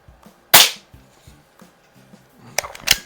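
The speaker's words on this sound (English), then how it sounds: "this one, it just amazes me when I shoot this gun" An air pistol firing QYS pellets, likely a Daisy 717 or Diana model 6, gives a sharp, close crack, followed by quieter handling clicks and then two more sharp snaps near the end.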